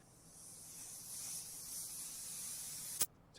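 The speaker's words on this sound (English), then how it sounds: "I basically spray paint the thing with black, and then I spray paint white from above" Aerosol spray hisses steadily and quietly as black primer coats a miniature robot model made of beads, ending with a sharp click near the close.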